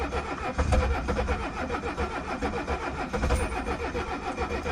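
A 1976 Mercedes-Benz 300D diesel engine turns over and settles into a steady, rough, rumbling run close by, loud and continuous with no talk over it.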